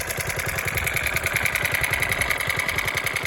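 Lawn mower engine with blades needing sharpening runs steadily nearby, a regular chugging low pulse under a buzzing whine, no speech.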